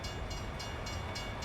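A train rolling past in American Truck Simulator, a steady dense rumble of wheels with faint periodic clacks, heard close and continuous with no voices.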